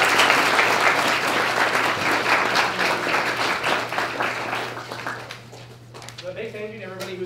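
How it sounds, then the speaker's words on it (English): An audience applauds its panel at the close of an event, with a full, steady clapping that thins and fades before a voice begins speaking near the end. "let's give a round of applause for our panel"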